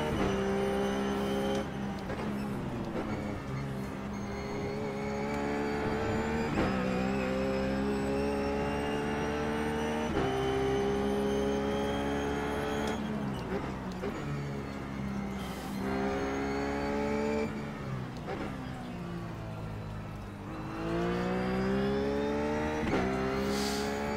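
Ruf race car in iRacing lapping Road Atlanta, its engine revving steadily and loudly with repeated upshifts and downshifts as it accelerates and brakes through corners, no talk over it.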